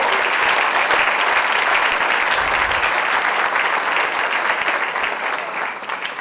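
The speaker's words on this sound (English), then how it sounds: "Let's have another round of applause for our opening performers" Audience at an alumni center event applauding opening jazz performers on piano, bass and drums, a dense, loud wash of clapping that holds steady and fades slightly at the end.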